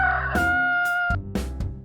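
A rooster crows a loud, close cock-a-doodle-doo with a long sustained middle note, followed by a few shorter clucking calls, with no other sound around it.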